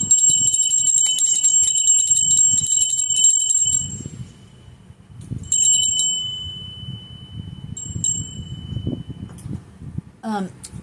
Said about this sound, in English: we need to ring the bell